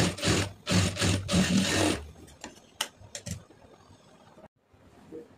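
A sewing machine stitches a blouse sleeve seam, running in a steady, fairly loud whir for about two seconds, then falling to a few scattered clicks and near silence.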